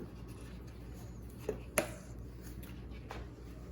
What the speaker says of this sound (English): I'm going to get out my knife and we'll start cutting this up